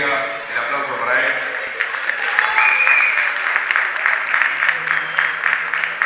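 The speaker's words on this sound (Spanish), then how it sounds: "El aplauso para él." Festival audience applauding a performer, dense continuous clapping building and holding at moderate loudness, with some voices and a held musical tone under it.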